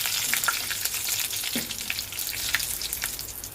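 Chopped chilies and curry leaves crackle and sizzle in hot oil in a pan while being stirred for a Kerala-style kalan curry, a steady close frying hiss with occasional utensil scrapes.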